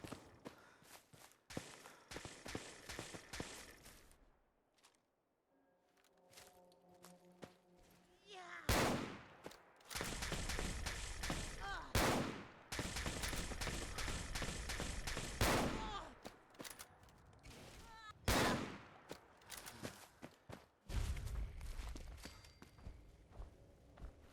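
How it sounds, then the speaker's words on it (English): Gamma gun firing in Fallout 4, sharp energy-weapon bursts in several loud clusters with quieter gaps between, mixed with footsteps and other game sounds. "Gamma gun."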